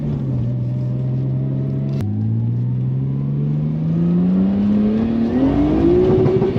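A Nissan Skyline with a swapped engine and faulty wiring running lean revs steadily upward toward high RPM, its pitch climbing continuously and loudly for several seconds with a slight stumble near the top, close and alone.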